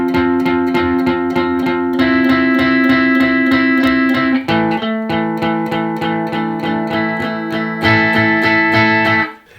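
Electric guitar playing a song's main riff, a continuous driving pattern of picked notes and chords with steady rhythmic attacks and a few brighter section changes, loud and alone, ending in a fade.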